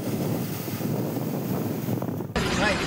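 Big sea waves surge at the Ganpatipule temple on the Konkan coast, pushing water up to the gate: a steady, loud, broadband roar of surf mixed with wind buffeting, shifting abruptly to a brighter rush near the end.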